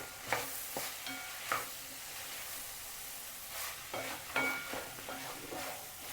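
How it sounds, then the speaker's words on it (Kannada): Bitter gourd palya is stirred in an uncovered pan, with a soft sizzle and a few scraping strokes of a spatula at irregular intervals. The sound is close and fairly quiet, with no speech. "ಒಂದು ಸತಿ ಮುಚ್ಚಳ ತೆಗೆದು ಗುರಾಡ್ತೀರಿ"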